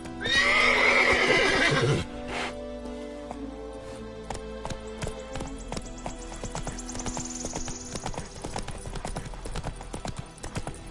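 Roach, the horse in The Witcher 3, gives a loud, close neigh, then settles into a steady clip-clop of hooves that carries on alone with no talk.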